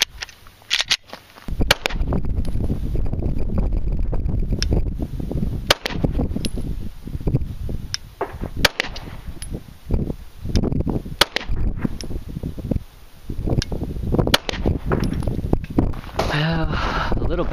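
A Glock 17 pistol fires at a 50-yard target in several sharp, loud reports spaced a second or more apart. Each report ends in a short crack, and outdoor wind noise and handling rustle run in between.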